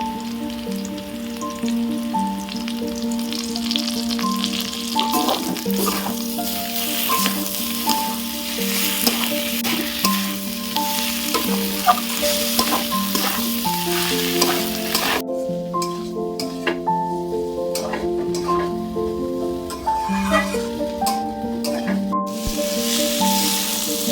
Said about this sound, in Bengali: মশলা দিয়ে একটু ভেজে নিয়েছি